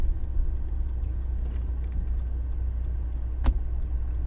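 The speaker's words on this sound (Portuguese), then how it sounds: "o cara coloca o carro na minha porta" A car pulls up and parks right at a house door, its engine idling as a steady low rumble throughout, close by, with a brief sharp click or clunk near the end and no talking.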